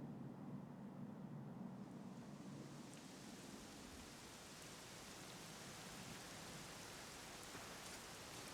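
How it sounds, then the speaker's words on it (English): Steady rainfall in the video game Dragon Quest XI, a continuous dense hiss of rain with a low rumble underneath early on, constant and unbroken, with no voices. "it was raining like this the last time I ever saw her"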